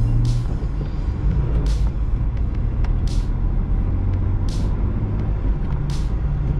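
A 1980 Mercedes on a test drive gives a steady, loud low engine and road rumble from inside the cabin, broken every second or so by short hissing bursts.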